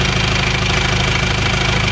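An Isuzu Panther 2.3 diesel engine idles warm after repair, a loud, steady, even clatter with a constant low rumble throughout and no voices.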